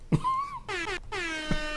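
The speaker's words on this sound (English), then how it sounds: "I could play the other air horn we got here" A loud horn blast with steady harmonic tones, broken by a short gap, then sounding again; brief thumps punctuate it, with no talking.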